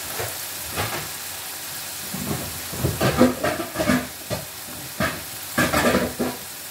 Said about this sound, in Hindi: जब मसाले तेल छोड़ दे, ये देखिए तेल छोड़ दिया इसने मसाले ने, और मसाला अच्छी तरह भून जाए।